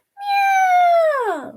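A person imitates a cat with a single drawn-out meow, a clear harmonic tone that holds steady and then slides downward at the end. It is close, loud and alone, with no other talk around it.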